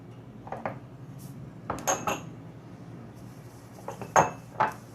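A spoon mixing za'atar, sesame seeds and olive oil in a bowl gives a few scattered clinks and light scrapes against the dish, quiet and close in an otherwise calm kitchen.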